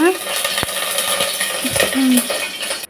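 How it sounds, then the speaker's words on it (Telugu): Flour being stirred in hot ghee for homemade laddu, with a spoon scraping and clinking against the pan over a soft frying hiss, in steady close strokes and a few sharper knocks. "వీడియోలో చూపిస్తున్నట్టుగా బాగా కలుపుకోవాలి"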